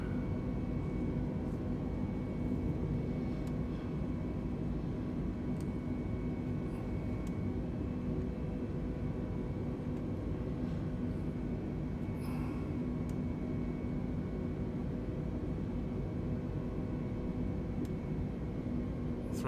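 A320neo airliner engines roaring at takeoff thrust in a flight simulator, a steady, even broadband rumble with a faint whine held for the whole stretch, with no talk.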